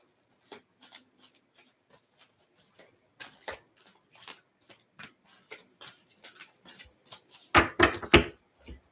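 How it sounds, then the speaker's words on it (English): Angel cards being shuffled by hand during an astrology reading, a run of soft papery riffles and taps that grows louder into a dense burst of shuffling near the end. "Give it a good shuffle."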